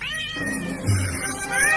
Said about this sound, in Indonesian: Bas, lihat, Bas. Ada kucing di atas itu.